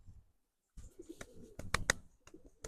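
Soft cooing from high-flying pigeons with a few sharper chirps, close by and quiet, after a brief silent start.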